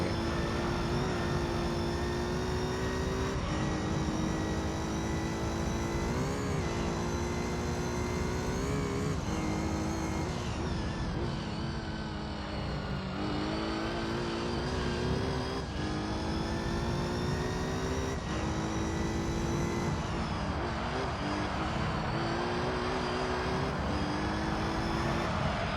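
A car in Gran Turismo 3 runs along the curb, its engine holding a loud sustained droning roar with shifting pitch steps, rumbling continuously like an aircraft taking off, with no talk over it.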